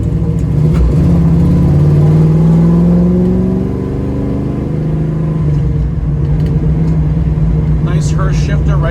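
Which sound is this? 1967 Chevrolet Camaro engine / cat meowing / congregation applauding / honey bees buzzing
1967 Chevrolet Camaro engine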